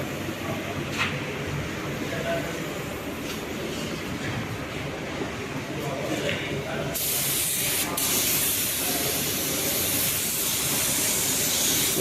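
A spray gun lays primer onto an Audi car body in a paint workshop, a steady broadband hiss that swells sharply louder and brighter halfway through and keeps blasting to the end, with faint voices underneath.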